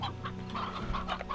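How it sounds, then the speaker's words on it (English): Chickens cluck in the video game Slime Rancher, several short clucks over a steady low hum of game background sound, fairly close and with no talking. "I got four chickens now."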